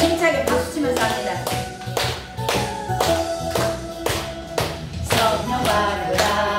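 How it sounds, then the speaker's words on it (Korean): A congregation at a Korean Wednesday worship service claps vigorously in a steady, even rhythm of sharp, loud strikes with music underneath, repeating evenly for several seconds. "힘차게 박수 치면서 합니다."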